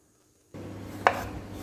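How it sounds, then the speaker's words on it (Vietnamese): A single crisp knife stroke through pomelo peel on a cutting board, being sliced thin, lands once over low room noise after a brief silence. "Mình xắt sao cho cái vỏ bưởi nó thật là mỏng như vậy."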